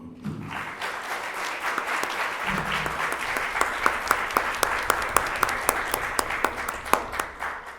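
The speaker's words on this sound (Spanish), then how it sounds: "me gustaría que le diéramos un aplauso a los invitados y a Miguel Arelis" An audience applauds guests at a tribute event for a family of clay artisans, a steady, full round of many hands clapping, with sharper individual claps standing out near the end.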